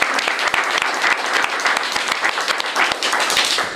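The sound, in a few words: applause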